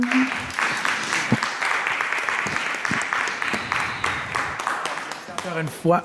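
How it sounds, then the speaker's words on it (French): Audience applause after a talk at a masterclass, a steady round of many hands clapping, with a voice speaking over it near the end. "On applaudit encore une fois Caroline Pernelle"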